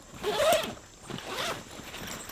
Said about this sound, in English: we do have zipper pulls.